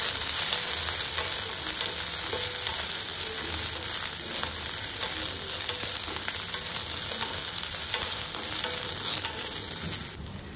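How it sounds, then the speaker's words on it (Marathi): Red chilli, onion and capsicum sizzle and crackle in hot oil as they are tossed in a pan for restaurant-style chilli paneer, giving a loud, dense, continuous frying hiss with no talking. "लाल मिरची, कांदा, शिमला मिरची, हे छान टॉस करून घ्यायचं आहे ह्या तेलात"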